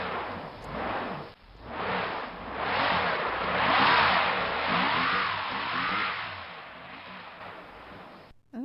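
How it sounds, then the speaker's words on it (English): A car stuck in snow, its engine revving hard in repeated rising and falling surges with wheels spinning, fairly close and loud over several seconds before cutting off abruptly. "That was a car stuck in the snow."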